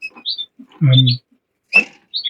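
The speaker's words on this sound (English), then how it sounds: "here's another one of my birds for next year" A lightly variegated Border canary calls up close in a quiet room, giving a few short bright chirps and a brief buzzy note in separate bursts.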